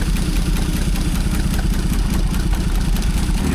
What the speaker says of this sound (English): It's the coupler on the hydraulic pump.